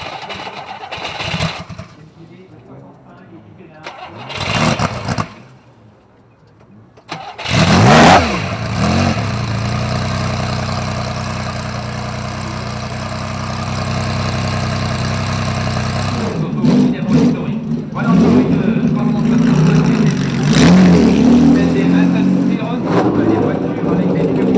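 A classic sports car in the Tour Auto rally between Paris and Cannes fires up with a few short bursts, then settles into a loud, sustained engine note that climbs as it pulls away, with a voice talking over it.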